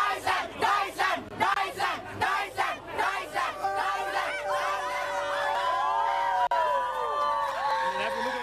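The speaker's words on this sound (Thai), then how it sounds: "เป็นบรรยากาศทุกคักนะครับในการเชียร์ฟุตบอลในค่ำคืนนี้นะครับ" Crowd of football fans at a night match gathering, German and French supporters, chanting rhythmic cheer songs in unison, then sustained sung cheering with many voices, loud and close with a brief sharp knock near the end.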